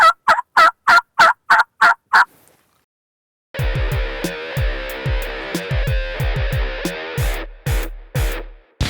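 Wild turkeys gobble in early spring: a rapid run of loud, close gobbles, a pause, then a longer stretch of harsh, distorted gobbling broken by pulsing bursts.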